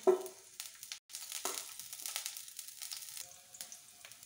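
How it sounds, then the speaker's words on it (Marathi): Green chillies frying in a spoonful of ghee give a soft, faint crackle and sizzle with light stirring and scraping, quiet and close. "मिरची चांगली तळलेली आहे"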